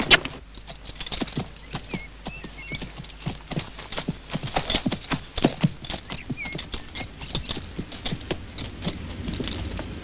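Hooves strike in a steady, uneven walking rhythm, many light clopping impacts close by over a low background.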